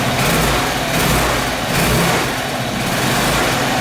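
Apollo SL250-2 250cc scooter engine that bogs on takeoff, started and revved close up: a loud, dense, steady motor roar with slight swells in throttle throughout, no voices.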